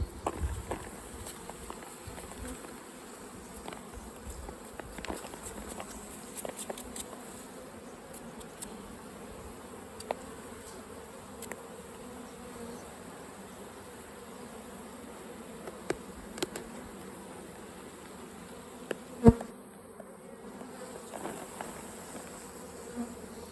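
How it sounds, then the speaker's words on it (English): A steady low drone of many honeybees buzzing in a strong nucleus hive used for pollination, with occasional soft knocks and bumps from handling the boxes. "There's bloody heaps of bees in here."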